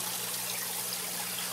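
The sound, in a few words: aquaponics pump water showering down into the tank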